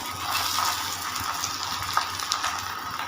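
Paratha frying in homemade desi ghee in a pan, a soft, even sizzle that stays constant and fairly quiet, with faint stirring clicks.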